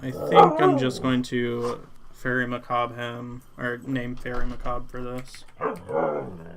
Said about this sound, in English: If you hear that, which you likely do, that is my dog.